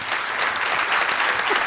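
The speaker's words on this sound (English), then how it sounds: "A round of applause" Audience applause fills a City Club forum in Cleveland, a dense, steady wash of many hands clapping close and loud for the whole short stretch, with no talk over it.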